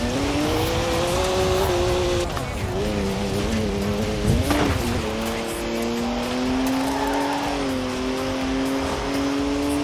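A BMW drives hard in Forza Horizon 4, its engine droning and shifting pitch as it accelerates through gears, with a tire squeal midway, loud and close, under faint talk.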